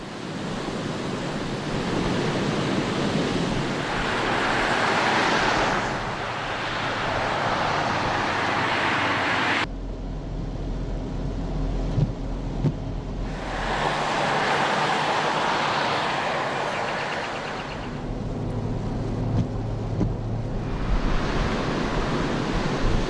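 High sea waves surge and wind roars during heavy rains in Dhofar, Salalah, with loud broad washes of surf rising and falling in long swells and a gusty buffeting hiss throughout.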